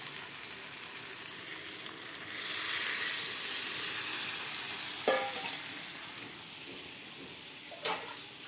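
A steady frying sizzle that swells into a louder, broader hiss as water hits the hot duck curry, with a few metallic stirring knocks.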